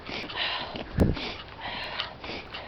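A person imitates a nephew's habitual nervous sniffing with a single sharp, close sniff near the middle, set between soft breathy noises.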